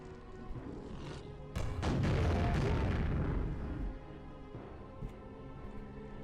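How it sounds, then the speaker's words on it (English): Multi-rocket launcher blasts in Quake, Dissolution of Eternity mission pack: a burst of several rapid booming explosions merging into a loud rumbling roar, then fading back to background game ambience with a couple of faint later pops. "Oh, I hit it with the multi-rocket."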